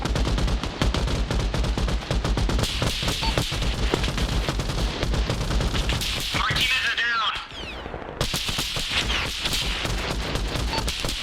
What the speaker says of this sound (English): this is a machine gun, keep pushing